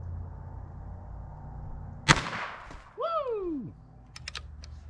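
Rifle fired freehand without a tripod at a hard seltzer can outdoors, a single sharp crack followed by a ringing metallic echo that sweeps downward, then faint clicks.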